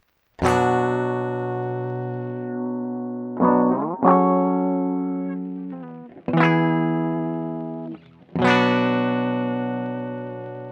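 Electric guitar chords run through a Roland SP-555 filter effect, four sustained strums each ringing out with shifting harmonics, loud and close with no talking.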